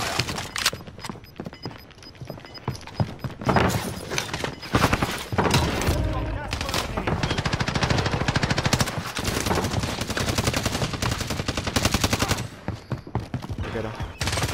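Video game Warzone gunfire, including an SA12 shotgun, comes as rapid bursts and shots in quick succession throughout, with players talking over the shooting.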